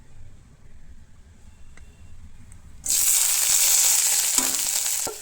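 Ingredients for a mutton curry drop into hot oil after a quiet moment, setting off a loud, steady close-up sizzle that keeps going with faint stirring clicks.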